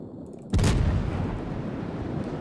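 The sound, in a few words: naval gunfire from a cruiser in a video game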